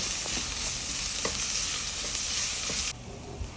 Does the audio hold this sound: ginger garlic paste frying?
yes